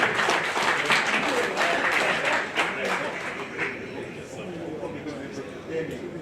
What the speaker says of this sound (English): A bigger hand clap.